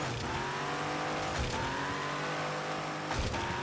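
LaFerrari engine in Asphalt Legends after the game's update, a short burst of steady, loud revving with a smooth harmonic drone and a couple of quick shift blips, no talking.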